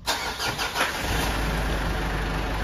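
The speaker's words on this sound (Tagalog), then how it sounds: "I-start ko ng aking makina" A car engine cranks and catches after an automatic transmission fluid and filter change, then settles into a steady, loud idle with no talking.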